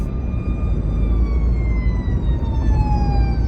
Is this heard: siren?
yes